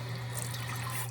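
Tap water pours steadily into an iron pan held under the faucet for rinsing, a close, continuous rushing stream with a low steady hum beneath it.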